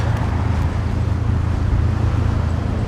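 A low, steady rumble of a city bus and road traffic passing on a Toronto street in Scarborough in winter, a continuous engine drone close by with no speech over it.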